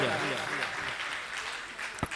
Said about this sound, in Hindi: बहन जी के लिए जोरदार तालियां।